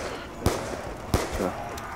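Gunshots in the Black Ops 2 Zombies video game, two sharp bangs roughly two-thirds of a second apart, heard over background game noise and a voice talking.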